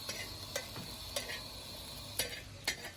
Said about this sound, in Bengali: আর একটু নাড়িয়ে নিই